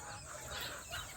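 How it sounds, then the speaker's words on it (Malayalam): A native hen, mother of a brood of white chicks, clucks softly. The sound is faint and low against a steady farmyard background. "അടിപൊളി കറക്റ്റായിട്ടുള്ള കോഴിയാണ്"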